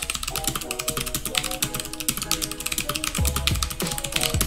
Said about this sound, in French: Les gars, écoutez juste le bruit du clavier.